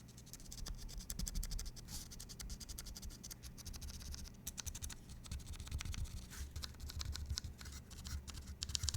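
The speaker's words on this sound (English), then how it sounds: "Do you guys hear the scratch on these switches? I'm just clicking them lightly." Vintage mechanical keyboard switches, lubed and scratchy, are pressed lightly and quickly in a dense patter of soft clicks and scrapes, close and quiet across nine seconds.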